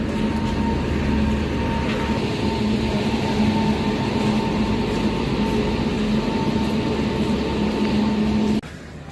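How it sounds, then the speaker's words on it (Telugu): Puri-bound express from Tirupati hauled by a WAG9 electric locomotive rolls into a junction in the rain, a steady loud rumble with a sustained low hum and whine that holds throughout, then cuts off abruptly near the end. "WAG9 లోకోమోటివ్తో వస్తుంది అనమాట ట్రైన్."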